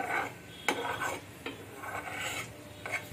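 Egg pudding caramel stirred in a pan, giving soft repeated scraping strokes of a utensil against the pan at an irregular pace, fairly quiet with no talking.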